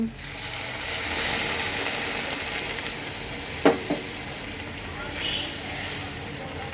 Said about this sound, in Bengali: এখন আমি দিয়ে দেবো ঝোলের জন্য জল